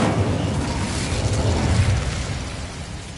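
A fire spell cast in the video game Hogwarts Legacy bursts into a loud, sustained roaring blast with a deep rumble that holds steady for about three seconds before easing slightly.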